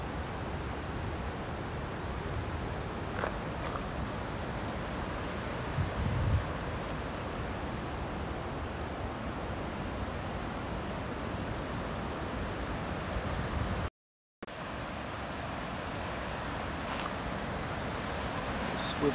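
A mountain waterfall with rising mist gives a steady, broad roar at close range, like rushing water, interrupted by one brief gap of silence partway through.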